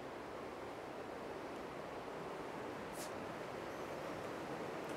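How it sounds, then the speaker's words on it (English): A river flows beside an abandoned Japanese ghost town, a steady, even rush of water that is moderately faint and carries on unbroken, with no voices. "you just hear the river"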